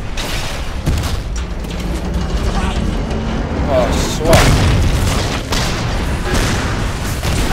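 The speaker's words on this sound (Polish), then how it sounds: "Aż tu nagle jakieś wybuchy się zaczęły robić" Deep booming explosions rumble through a noisy Medal of Honor Warfighter game soundscape, with a few heavier blasts, while a person speaks briefly over them.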